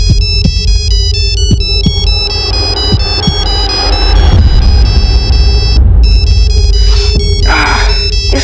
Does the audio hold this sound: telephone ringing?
yes